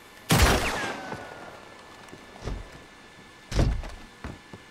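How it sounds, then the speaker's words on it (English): A gunshot at a door lock in Red Dead Redemption 2: a sharp, loud bang is followed by a lingering metallic ring, then a softer thud and a second close, loud shot. "I just shoot the lock."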